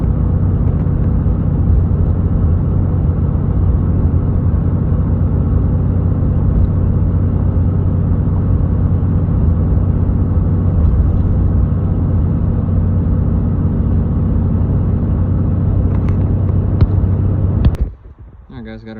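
A steady, loud low rumble of a Tahoe truck driving on the road while towing a trailer, continuous for most of the stretch and then cutting off abruptly near the end.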